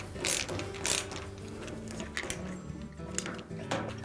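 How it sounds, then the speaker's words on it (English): Screws being snugged on a siphon break connector elbow of a Whirlpool washing machine, with quiet, close ratcheting clicks in short bursts and a few soft mechanical knocks. "And then just snug the screws up."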